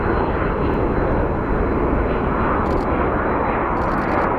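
McDonnell Douglas airliner engines at Phoenix Sky Harbor International Airport, a loud, dense, continuous jet roar holding steady for several seconds with no gaps.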